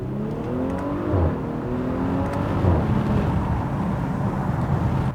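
Exhaust note of a B9 Audi SQ5 with a resonator delete, heard while driving through a tunnel, giving a steady engine drone with rising and falling rev tones and a reverberant, enclosed quality.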